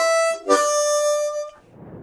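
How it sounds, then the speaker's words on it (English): Blues harmonica played with the tongue-blocked slap technique: a sustained reedy chord cut by a sharp percussive slap, then held before stopping abruptly, close and clear with no talking. "Tongue slaps are one of the most evocative tongue-blocked techniques."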